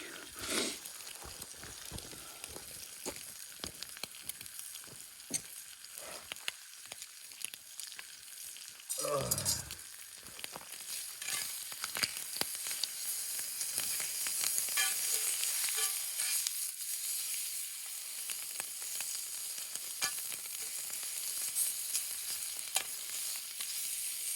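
Breakfast frying in a new fry pan, a steady close crackle and sizzle with scattered pops that swells louder midway after a brief scrape, continuing without talk in a quiet outdoor high-country camp.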